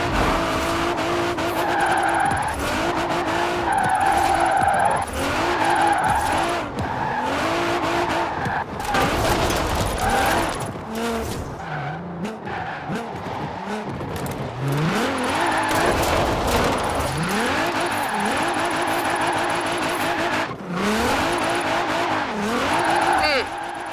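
Car drifting in Forza Horizon 4, tires squealing and skidding in repeated slides as the engine revs up and down, loud and close, with someone talking over parts of it.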